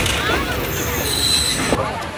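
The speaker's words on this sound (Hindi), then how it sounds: "लांडी रेलवे स्टेशन पर ट्रेन ने स्टॉप कर लिया" The Rehman Baba Express, a Pakistani passenger train, squeals and rumbles as its wheels grind to a stop at Landi railway station, a loud continuous metallic screech heard from inside a rear coach, with faint voices in the background.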